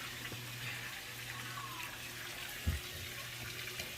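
Water draining out of a flooded bathtub in a bathroom during a messy cleanup, a steady low gurgling wash with one brief thud partway through, no talking.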